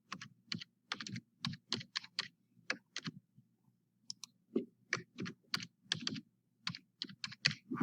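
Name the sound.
typing username and password on computer keyboard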